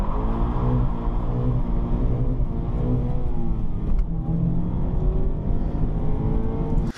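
A Mazda Miata launches hard from a standstill, its engine revving loud and close as it climbs through the rev range in one sustained rising run, with a brief dip around the shift.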